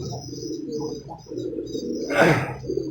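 A caged songbird calls in short, high, repeated phrases, close to the microphone, with a brief louder burst of rustling noise partway through.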